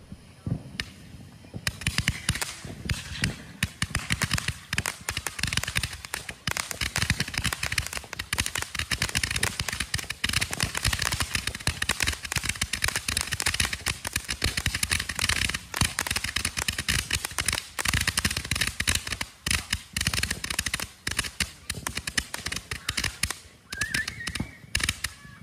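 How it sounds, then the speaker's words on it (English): A cone-shaped Roman candle stand fires its 500 shots in a dense, unbroken barrage of crackling pops that runs for the full stretch, loud and close throughout. "This is the cone-shaped Roman candle stand. It's 500 shots, and it'll have a green and purple effect."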